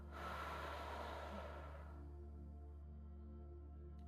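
One slow, deep breath is drawn in and let out with an audible rush of air, close and quiet, then it fades to near silence.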